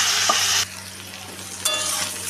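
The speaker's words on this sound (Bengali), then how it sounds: "এই তেলেই আমি গাজরটাকেও ভেজে নিচ্ছি।" Salted carrots fry in oil for a daliya khichuri, a bright crackling sizzle that cuts out briefly then returns, over a low steady hum, close and fairly loud with no talking.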